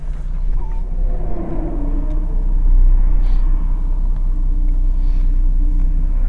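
A 2005 Jeep Grand Cherokee WK CRD diesel cruising on a road, heard from inside as a steady loud low rumble of engine and road noise, continuous throughout with no talk.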